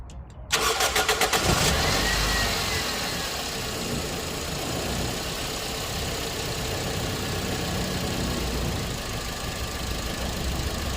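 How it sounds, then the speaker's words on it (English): Toyota Echo Yaris engine fitted with a new ignition coil and spark plug cranks briefly with rapid stuttering pulses, then catches and settles into a steady, loud, close idle. "mesin lebih halus,"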